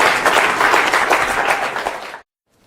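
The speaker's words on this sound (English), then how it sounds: "Give them both a round of applause, please." Audience applause at a live magic performance, dense steady clapping from a crowd that cuts off abruptly near the end.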